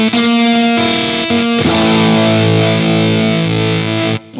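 Electric guitar played through a Whimsy Machines Short Stack single-stage ultra-high-gain JFET booster, loud and heavily distorted with a sputtery, gated character, chords ringing continuously before cutting off near the end.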